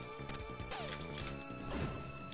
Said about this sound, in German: irgendein Siegel ist zerbrochen